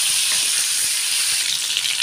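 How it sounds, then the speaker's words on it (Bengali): Bay leaf and dried chili fry in hot oil with a continuous, close, even sizzle that stays loud and unbroken, with soft crackling mixed in. "তেলের উপর ভালো করে ভেজে নেব।"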